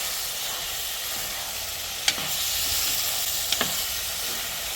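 Onions sautéing in oil in a pan for an anchovy dried-fish curry, a continuous bright sizzle and hiss up close, with a couple of sharp utensil clicks.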